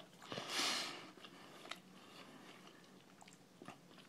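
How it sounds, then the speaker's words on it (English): Someone bites into a crunchy, chewy tuna melt on a bagel, a loud crunch near the start followed by quieter, close-up chewing and a few soft crunches, with no talking. "It's crunchy and chewy."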